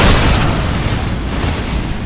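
A loud, sustained roaring burst of fire shot by an enemy in Dark Souls 2, a continuous whooshing blast lasting a couple of seconds.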